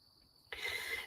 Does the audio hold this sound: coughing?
no